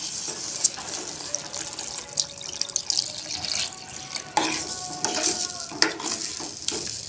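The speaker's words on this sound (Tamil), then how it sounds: "இந்த புளி தண்ணி எடுத்து அதே ஒரு கிளாஸ் அளவில் தண்ணி ஆட் பண்ணிக்கலாம்." Tamarind water and plain water pour into a pot of fish curry, a continuous splashing, trickling rush with occasional sizzling and stirring clatter, close and fairly loud.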